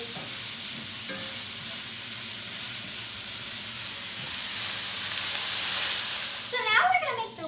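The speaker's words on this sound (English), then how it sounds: "I'm going to add a little bit of olive oil, and I'm going to stir this down for about 8 to 10 minutes" Chopped vegetables and garlic sizzle steadily in olive oil as they are stirred in a pan, a loud, continuous frying hiss that swells slightly before a few scraping clinks near the end.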